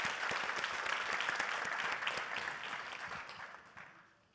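Audience applause at a university science contest forum in Linz, a dense, steady wash of clapping from a crowd that holds for several seconds and then tapers off toward the end.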